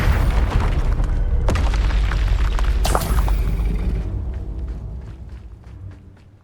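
Bombarda and Confringo spell blasts in Hogwarts Legacy: a couple of loud, sharp booms over a heavy low rumble that gradually fades into quieter scattered impacts.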